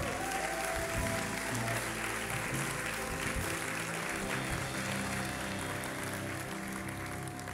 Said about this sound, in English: Come on, give him a good hand clap.